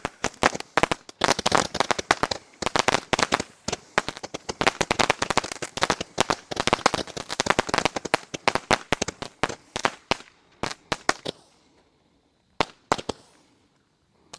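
A rapid barrage of sharp firecracker-like bangs crackles densely for about ten seconds, then thins out to a few scattered pops with silent gaps.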